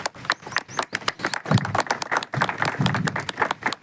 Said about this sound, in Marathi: या सत्कारासाठी जोरदार टाळ्या झाल्या पाहिजे